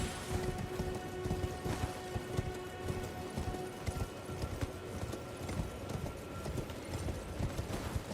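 A horse's hooves gallop in the Elden Ring video game, a steady, rapid clip-clop running continuously at moderate loudness with no voices.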